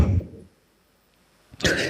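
Two short, harsh coughs separated by a brief silence, close and fairly loud.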